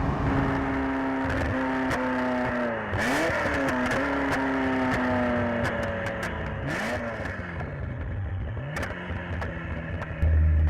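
A loud Ferrari F40 engine revs and accelerates, its pitch climbing and dropping through several gear changes, with a throaty exhaust roar and occasional pops.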